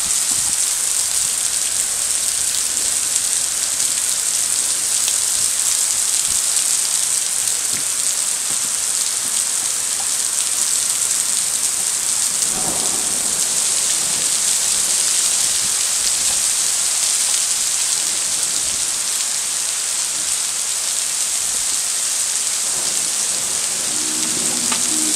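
Heavy thunderstorm rain pours down in Denver, Colorado, hissing close and loud on surfaces in a steady, unbroken wash, with only a faint low rumble midway and no one talking.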